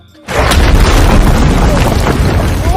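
A film RPG rocket explosion bursts loudly and close, then rolls into a dense, sustained rumble of debris and blast noise for a couple of seconds.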